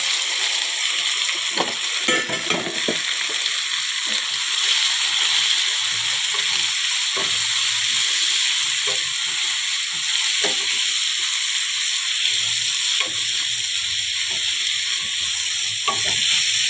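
Telagapindi (sesame seed flour) frying in a pan gives a steady close sizzle throughout, with repeated scraping clicks of stirring at irregular intervals and no voices.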